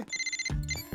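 A phone rings loudly on its own, an electronic ringtone with a fast trilling pattern followed by a lower repeating tone.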